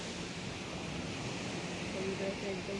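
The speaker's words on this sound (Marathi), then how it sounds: "उधाणाचा पाणी ना, आता पौर्णिमा ना, उधाणाचा पाणी इथपर्यंत येतं. ते आवाज येतं आहे बघ." Sea waves roll onto a beach at night at high tide during a full moon, giving a continuous broad rushing wash with a brief faint tone partway through.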